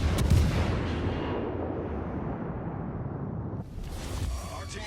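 Naval gunfire from the German cruiser Yorck in World of Warships, heard as a heavy booming salvo that rolls into a long, sustained rumble before a second burst near the end, loud and close.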